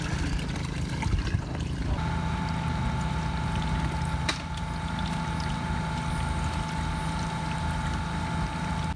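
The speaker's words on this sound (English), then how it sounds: "And then I take that loose mixture and I slowly pour it in." Steady pouring and sloshing as a wet DE filter powder slurry is slowly poured into a pool, over a constant low mechanical hum, like a pump running nearby; no talking.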